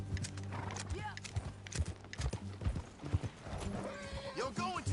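Horse hooves clip-clop in a steady galloping rhythm while riding in the video game Red Dead Redemption 2, with occasional neighs and whinnies and character voices talking over it.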